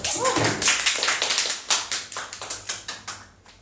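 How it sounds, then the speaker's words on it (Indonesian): A small group claps briefly during a live podcast-style session with JKT48 members, a quick run of distinct, close hand claps that thins out and tapers into a few scattered claps. "Tepuk tangan dulu."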